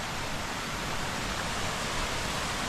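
A waterfall near Oeschinensee in the Swiss mountains gives off a dense, steady roar, heard near and unbroken, with no voices.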